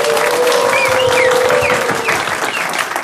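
An audience applauds a foundation's board with loud, close, sustained clapping, while a whistle or cheer rises briefly above it partway through.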